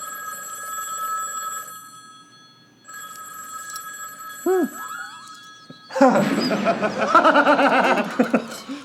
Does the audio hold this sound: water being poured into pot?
no